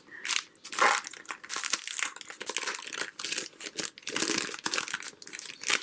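Crinkly paper ephemera from a craft subscription box is handled close up, with loud bursts of crumpling and rustling in an uneven rhythm and short pauses between.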